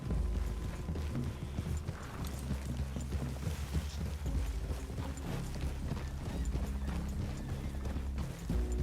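Horse hooves clip-clop steadily in Red Dead Redemption 2, a continuous loud trotting rhythm mixed with game ambience, creaks and an occasional whinny, without talk.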